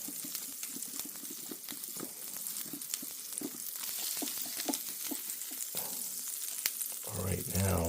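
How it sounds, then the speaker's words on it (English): Butter sizzling in a hot waffle pan, a steady close crackle with small popping ticks and some scraping, ending with a brief murmur of voices under the sizzle. "Butter up the pan."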